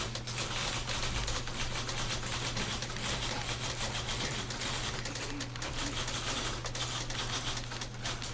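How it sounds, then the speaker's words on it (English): Many typewriters clacking together in the narrative video game The Beginner's Guide, a faint, steady, dense patter of keystrokes over a low hum. "And a fuckload of typewriters."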